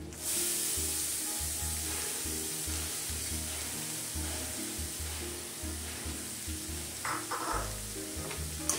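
Grated carrot for carrot halva sautéing in ghee, a steady moderate sizzle with occasional soft stirring scrapes and low clunks of the spoon against the pan.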